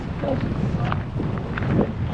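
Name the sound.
strong wind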